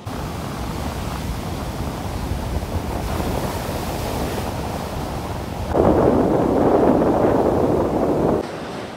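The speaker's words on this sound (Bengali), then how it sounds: "পুরী এসে যদি এই পুরী সমুদ্র সৈকতে না আসলাম, এই সমুদ্র না দেখলাম, তাহলে আর কি হলো" Sea waves break on the beach at Puri in a steady, full roar of surf with wind buffeting the microphone, then a louder wave surges in and crashes from about the sixth to the eighth second before settling back.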